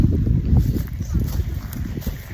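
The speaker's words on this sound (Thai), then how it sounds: "นี่ลมก็ยังแรงอยู่นะครับ ลมก็ยังแรงอยู่เลยนะครับผม" Strong wind buffets the microphone outdoors on a farm plot where banana plants are being planted, a steady low rumble with gusty swells throughout and a voice faintly present beneath it.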